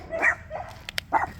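A dog at a campsite gives a few short barks and yips, fairly close and moderately loud, spaced over a second and a half with no talk over them.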